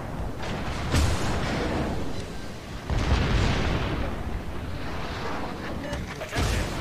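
Naval gunfire in the World of Warships video game, repeated heavy booming salvos and rumbling blasts over a constant loud battle roar, with a voice faintly underneath.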